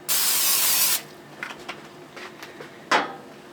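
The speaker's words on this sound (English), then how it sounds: "So, spray down our grill a little bit." Oil sprays onto a Traeger Flatrock griddle in one loud, steady hiss lasting about a second, followed by faint clatter and a second short spray burst near the end.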